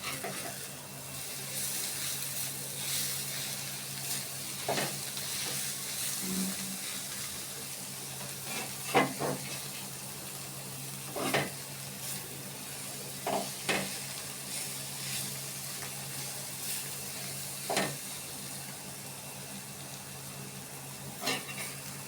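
Shredded cabbage bhaji frying in a pan with a gravy-like coating, a soft continuous sizzle punctuated by repeated spatula scrapes and taps at uneven intervals, close but fairly quiet.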